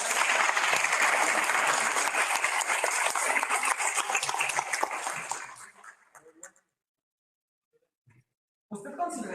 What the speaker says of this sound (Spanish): Un aplauso a Ivy